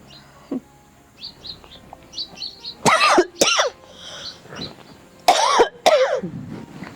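A few sharp, close coughs and throat-clearing bursts over quiet background, with faint bird chirps scattered between them.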